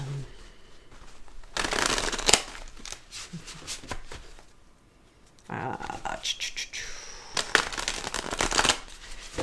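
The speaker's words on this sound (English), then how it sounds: "let's do a couple shuffles" Tarot cards being shuffled close up in two bursts of riffling and rustling, with quieter handling between and faint soft voice in the background.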